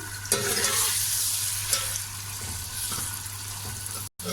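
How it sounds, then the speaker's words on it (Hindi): A spoon stirs colostrum and cardamom in a pan for a sweet zarda, giving steady soft scraping under a constant sizzle and low hum, with no voices. "इसको इस तरह से हम अच्छी तरह से चम्मच से इसको अलग अलग कर लेंगे"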